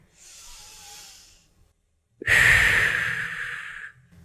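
A theatre-workshop breathing exercise: a soft breath is followed, after a short silence, by a strong, close, hissing exhale that fades out, with no speech.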